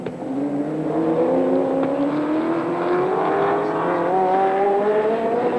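Holden Commodore touring race cars at Symmons Plains during the 1992 Australian Touring Car Championship, engines roaring loudly and steadily rising in pitch as they accelerate, with a continuous close, high-revving drone.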